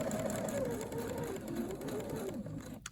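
Sewing machine stitching around a tight curve on turned-edge quilt appliqué, a steady close whirring hum that runs continuously and stops at the end.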